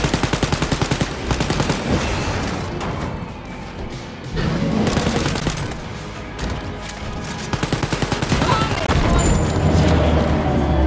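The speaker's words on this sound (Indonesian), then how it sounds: "Yang ditembak gasolinnya ya." Rapid automatic gunfire aimed at a gasoline tank in Wolfenstein: Youngblood, loud, close bursts of rattling shots repeating across the span, broken by short pauses, with heavy thumps and a low rumble near the end.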